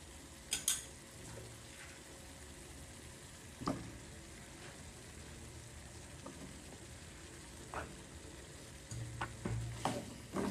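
Eggplant and potato pieces frying in oil in a pan, with a steady close sizzle and occasional clinks and scrapes of a spoon stirring against the pan.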